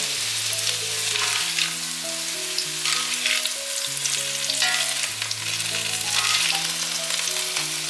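Minced ginger frying in a wok, a constant loud sizzle with occasional stirring, heard beneath melodic background music.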